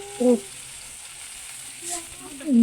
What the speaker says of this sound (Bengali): সরিষার তেলের ভিতর রসুন কুচি পেঁয়াজ কুচি দিয়ে এটাকে ভালোভাবে লাল করে ভেজে নিব